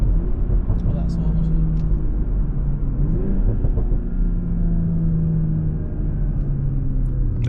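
A stock BMW M340i drones and revs under steady acceleration while driving, a continuous engine hum with road rumble filling the cabin; someone talks over it.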